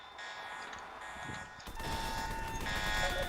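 A building alarm in the Roblox game Emergency Emden sounds as a steady electronic buzzing tone with layered harmonics, quieter at first and then louder after a brief break, continuing alone without speech.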